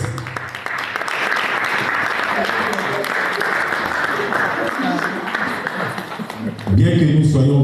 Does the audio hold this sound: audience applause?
yes